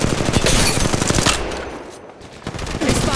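Rapid automatic weapon fire in the Apex Legends Mobile battle royale game, dense bursts of shots up close that pause briefly midway before another volley starts, with no voices.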